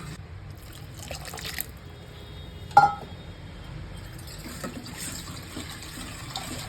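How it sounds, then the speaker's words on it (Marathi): Hot water is poured into a pot of sambar with cooked vegetables, a faint, low liquid trickle in a quiet kitchen, broken once by a sharp metallic clink. "शिजवलेल्या भाज्या त्या पण टाकायच्या आणि गरम पाणी ओतायचं"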